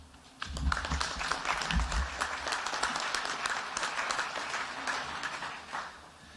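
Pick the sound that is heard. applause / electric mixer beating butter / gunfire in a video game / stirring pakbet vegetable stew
applause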